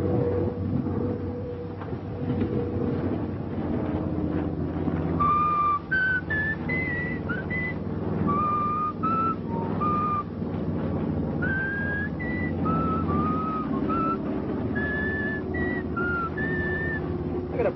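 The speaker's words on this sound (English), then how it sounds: "I gotta practice up my whistling." A person whistles a wandering, sliding melody of separate short phrases, clear and fairly close, over a steady low mechanical hum, with no talking.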